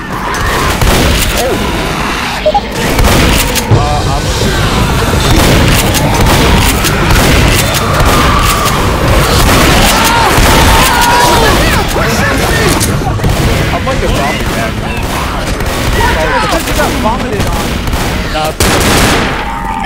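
Dense, loud gunfire roars through a Left 4 Dead match, continuous shots and bursts with crashes layered over game chaos, with players occasionally talking beneath it.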